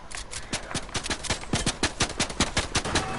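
Rapid automatic gunfire in a video game, a fast regular burst of sharp shots repeating roughly every fifth of a second, close and loud, continuing without pause.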